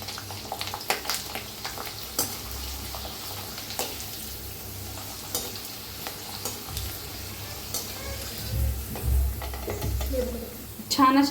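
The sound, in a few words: potato sabudana chakli frying in hot oil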